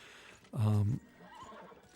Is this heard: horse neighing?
yes